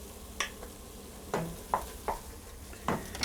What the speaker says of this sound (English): I want to stir in 2 tablespoons of tomato paste.